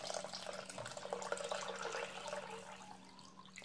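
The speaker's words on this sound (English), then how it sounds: "Carefully pour your chicken broth, because that is 4 heaping cups" Chicken broth poured into a dish for microwave Italian wedding soup, a steady liquid splash and trickle running close by and alone, fading slightly toward the end.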